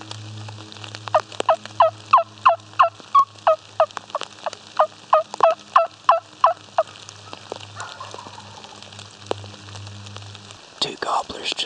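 A wild turkey gobbler calls in a Tennessee woods, a rapid burst of about a dozen loud, rattling gobbles spread over several seconds, fairly near, with quiet rustling and faint background noise.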